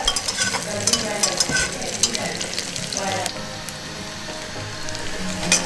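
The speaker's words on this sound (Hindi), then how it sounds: "कुकर में प्याज को भून रहे हैं जब तक वो ब्राउन नहीं हो जाता है।" Onions sizzle and fry steadily in a pressure cooker, with occasional stirring scrapes and clinks over a constant crackling hiss.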